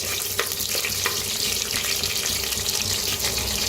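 Whole spices, among them black cardamom, roast in a pan with a dense, close crackling sizzle and light stirring. The sound is constant throughout, with no voices.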